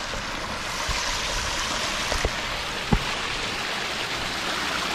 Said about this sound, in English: got some white water going, where it splits off